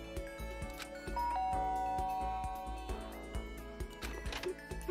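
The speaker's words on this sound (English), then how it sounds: "Guess I should press the doorbell." A doorbell in the video game Danganronpa: a clear electronic chime sounds once, held and ringing out over soft game music.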